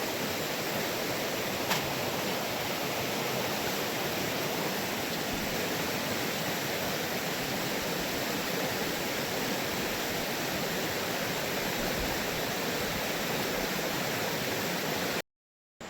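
River water flows freely back into its course at a fishing site in Mon District, Nagaland, a steady broadband rush heard up close and unbroken for most of the stretch before cutting out briefly at the end.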